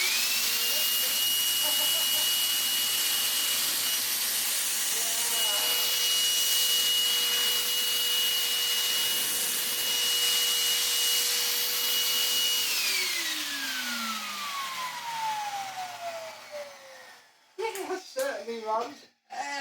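A Hoover Constellation vacuum cleaner motor hums loudly and steadily with a high whine, then spins down with a falling pitch, followed by some handling clatter.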